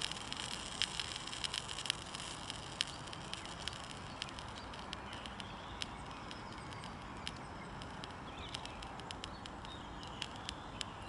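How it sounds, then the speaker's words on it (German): Wet leaves crackle and sizzle steadily in a small forest fire simulation, with dense, faint popping and sharp ticks throughout and no voices. "knistert, brutzelt und irgendwann ist dann trocken und wird dann auch mal Feuer fangen"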